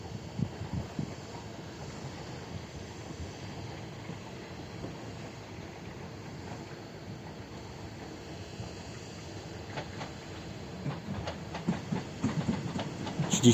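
A train rolls along a railway line near the Pawłowice–Zebrzydowice junction, where a single track branches toward Cieszyn, giving a steady low rumble with faint clickety-clack that swells louder toward the end.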